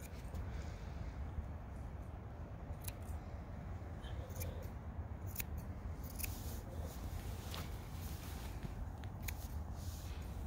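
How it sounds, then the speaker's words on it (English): Slip scissors trimming the hair on a Newfoundland dog's feet, a run of quick snips and faint metallic clicks at irregular intervals over a low steady background hum. "I apologize for the noisy slip scissors"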